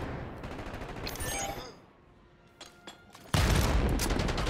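Call of Duty: Black Ops 6 beta firefight: rattling automatic gunfire, a lull with a few scattered shots, then a sudden loud burst of sustained fire close by.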